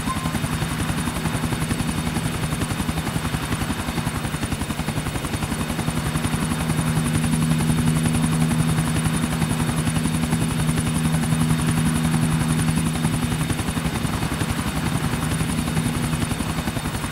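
A helicopter flies in the video game GTA 4 over Middle Park, its rotor drone steady and loud throughout with a constant low hum and no talk.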